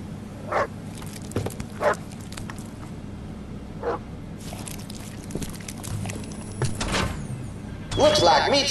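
Dogs bark in the video game Postal 4, several sharp, separate barks spread across the stretch amid footsteps and game noise, with a louder burst of activity near the end.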